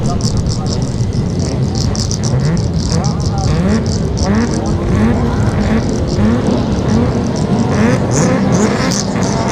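Production race cars roar away from a race start in a loud, continuous wall of engine noise, with several engines revving and shifting up, while a commentator talks over them.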